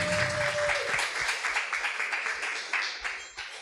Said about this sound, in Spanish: Dale un fuerte aplauso al Señor por su palabra.